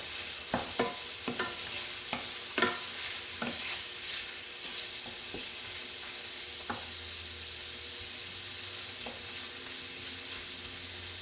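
Smoked turkey sausage browning in a pan with a steady quiet sizzle, a run of sharp spatula taps and scrapes early on, then mostly undisturbed frying.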